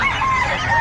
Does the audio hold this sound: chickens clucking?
yes